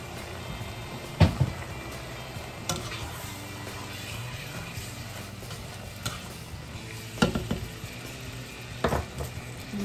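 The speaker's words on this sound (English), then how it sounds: "We're just going to brown our meat completely." Ground meat browning in a pan with garlic powder and pepper for lasagna, giving a steady low sizzle and fry with occasional sharp scrapes and stirring clatters from a utensil against the pan.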